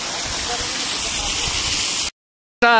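A large waterfall roaring, a loud continuous broadband rush of falling water that cuts out abruptly near the end.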